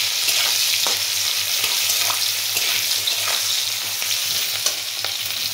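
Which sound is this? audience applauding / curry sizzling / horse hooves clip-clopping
curry sizzling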